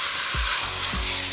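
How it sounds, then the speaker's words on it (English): Trimmed leg meat searing with onions in a hot pan, a bright continuous sizzle with two low scraping stirs, close-up and without voices. "start to coat that meat and start to seal it with those lovely onions"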